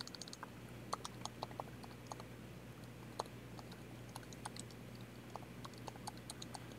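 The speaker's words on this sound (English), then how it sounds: "So I'm just going to type in my email on here." Quiet, irregular key taps on a computer keyboard enter an email address, a soft scattered patter of clicks over a faint steady hum, with no talking.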